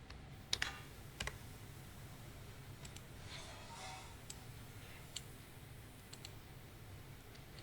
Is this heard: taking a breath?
no